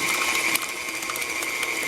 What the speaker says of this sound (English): And go ahead and turn on the mixer then.